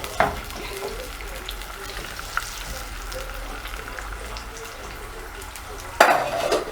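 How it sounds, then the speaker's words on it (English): Onions fry in a pan on a home stove with a steady soft sizzle, broken by a clack of a wooden cooking stick against the pan near the start and a louder stirring scrape near the end. "So our onions here are cooking."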